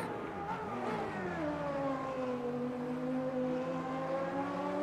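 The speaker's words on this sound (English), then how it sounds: "Accelerating out of the hairpin. I gave everything, it's full throttle" An early-1990s Formula 1 car at Suzuka in Automobilista 2 accelerates at full throttle out of a hairpin, its engine rising in one continuous, steady, close-up scream.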